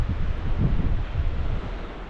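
Sea waves rolling against rocky coastal cliffs at Chujado island, a steady broadband wash with wind buffeting the microphone, continuous and moderately loud with no voices.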